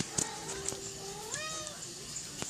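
A domestic cat gives a couple of soft, rising meows nearby in a quiet room, with a few light clicks in the background.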